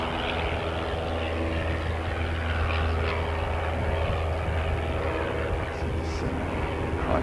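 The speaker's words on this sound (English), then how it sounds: "Christchurch Melbourne service by JetStar, going down to get the majority of the runway, if not all of it." A JetStar airliner on the Christchurch to Melbourne service takes off down the runway, a steady, continuous engine roar heard from a distance with no voices.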